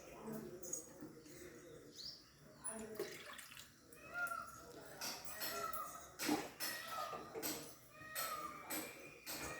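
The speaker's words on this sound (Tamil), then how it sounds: "அதில் மூணு டம்ளர் தண்ணி ஊற்றிக்கலாம்" Three tumblers of water poured into a cooking pot on a stove while making pearl millet (kambu) porridge; a close, splashing pour with uneven bursts over background noise.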